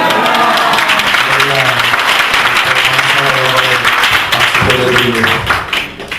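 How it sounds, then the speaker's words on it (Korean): Loud congregation applause fills a church hall at a founding worship service of a correctional mission society as the pastor comes forward, steady dense clapping with a voice and sustained tones running over it. "목사님 나오실 때 뜨거운 박수와 할렐루야로 환영하겠습니다"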